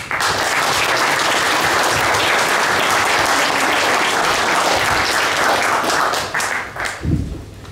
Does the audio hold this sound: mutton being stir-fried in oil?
no